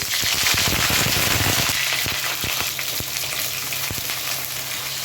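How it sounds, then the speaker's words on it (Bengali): Cauliflower florets hit hot oil in a wok, bursting into a loud, crackling fry with sharp pops and spatters early that settle into a steady sizzle. "তাহলে বন্ধুরা দেখো, আমার কড়ার তেলটা গরম হয়ে গেছে। এবার আমি ফুলকপিগুলো ছেড়ে দিচ্ছি।"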